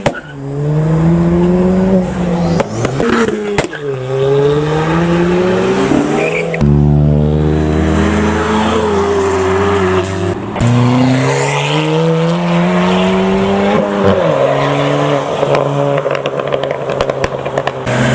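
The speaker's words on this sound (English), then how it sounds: "here's some other Fiestas with some decent exhaust sounds." A Ford Fiesta ST engine revs and accelerates hard, its aftermarket exhaust droning through rising gear pulls with brief shifts between, loud and continuous.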